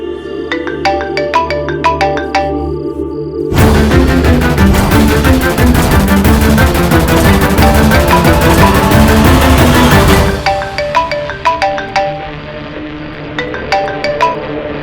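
A phone ringtone plays loud and steady as a repeating melodic pattern, swelling into a dense, fuller section in the middle before returning to the sparser repeating tones, with no talking.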